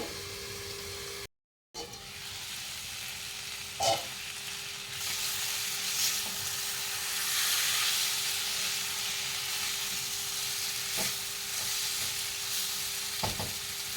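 Chicken simmering in its own released juices in a pan, no water added, giving a steady soft sizzle and bubbling hiss throughout, with a few faint utensil clicks and no talking.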